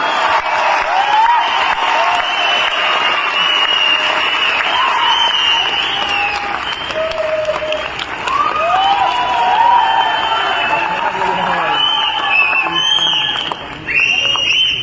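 Loud, sustained applause from a large audience in a packed hall, dense and continuous clapping with no break for the full length.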